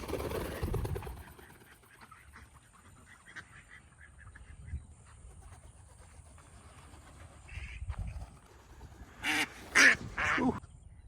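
Six ducks at a backyard pond quacking and honking, faint scattered calls through most of the stretch that grow into several loud, close quacks near the end.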